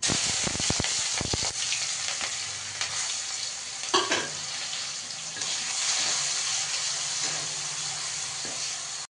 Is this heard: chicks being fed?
no